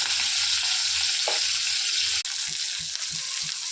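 Garlic, green chilli and curry leaves frying in hot oil for a sprouted matki usal, a loud steady sizzle throughout with a brief spatter burst and soft scraping stirs in the second half.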